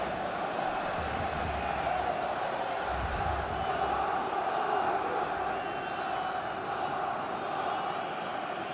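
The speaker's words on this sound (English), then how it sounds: "The crowd encouraging him to take it on." Stadium crowd noise from the football video game FC 24, at a Spain vs Germany Euro 2024 quarter-final, forms a constant loud roar with low rumbling swells throughout.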